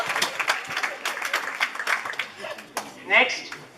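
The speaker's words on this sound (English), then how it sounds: "Huge round of applause for these performers." Applause from an audience for performers at a closing event, a dense steady patter of many hands that dies back as a few chuckles and murmurs rise near the end.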